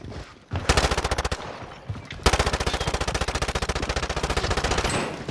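Rapid automatic gunfire in a shooter video game, loud close bursts that stutter at first then run into a long sustained rattle of shots, with no speech over it.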